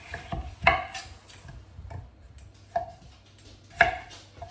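A few sharp knife chops land on potatoes on a cutting board, spaced irregularly with quiet pauses between them, close and crisp.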